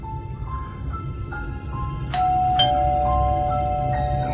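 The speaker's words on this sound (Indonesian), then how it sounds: "Dia terus-terusan memencet bel itu." A doorbell is pressed again and again at the front gate of an office mess, giving a string of short electronic chime tones, each ringing on into the next over a steady background hum.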